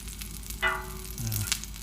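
Unsalted butter gently sizzling on a Lodge cast iron griddle, a soft close frying crackle with a few brief louder spurts.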